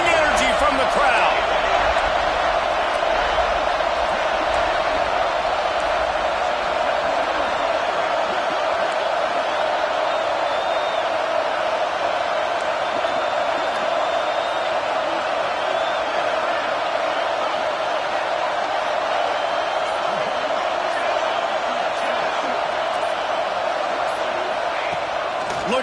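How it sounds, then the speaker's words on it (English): A continuous roar from a stadium crowd in a College Football 25 video game fills the background on a third and goal, steady and loud throughout, with commentators talking over it. "this defense feeling energy from the crowd"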